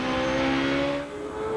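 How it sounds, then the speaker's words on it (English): Champ Car open-wheel race car at the 2007 Mont-Tremblant race, its engine held at a loud, steady high-rpm drone as the driver works the throttle, with a brief dip in pitch and volume before climbing again. "Just listen to him work the throttle."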